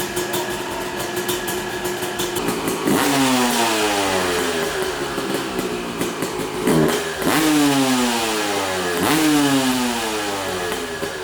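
A 2003 Suzuki RM250 two-stroke race bike engine idles with a buzzy rattle, then is revved hard three times, each rev a rising, ringing wail that drops back to idle, loud and close.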